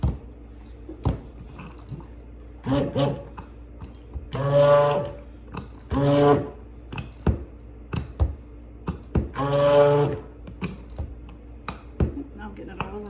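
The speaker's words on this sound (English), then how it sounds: "Put it in the stick blender." A stick blender whirs through goat milk soap mixture in several short bursts, each a few seconds long, between clicks, taps and handling noises at close range.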